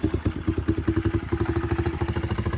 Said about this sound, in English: Turn the key. Hit him up.